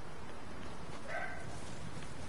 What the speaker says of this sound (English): Can my dog shut up?